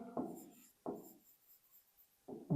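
Chalk or marker writing on a classroom board in strokes while a cubical Gaussian surface is drawn, three short scratchy bursts with pauses between, close and fairly quiet, no talking.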